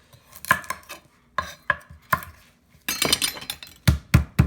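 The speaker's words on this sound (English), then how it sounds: "Now to the garlic. Just going to cut the ends off." A knife chops the ends off garlic on a cutting board. Several crisp, separate knocks come in an uneven rhythm, with a denser cluster of cuts and then three firm thuds close by.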